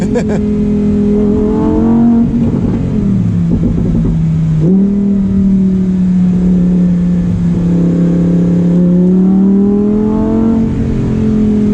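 A Lamborghini Huracan Performante engine revs hard and loud up close, pitch climbing and dropping with gear changes, a sustained throaty roar throughout.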